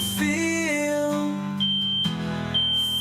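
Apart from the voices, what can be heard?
high-pitched droning fire alarm in old building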